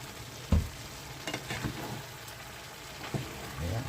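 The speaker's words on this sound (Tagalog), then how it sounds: "paigahin lang natin ng konti kasi nagsabaw yung ating zucchini" Ground meat and zucchini cooking down in a pan, a steady soft sizzle with a few clinks and stirring scrapes throughout, no talking.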